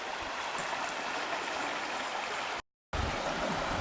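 Creek water rushing along a channel at a flood-damaged site, a steady broadband wash that fills the whole stretch and breaks off briefly into a moment of silence before resuming.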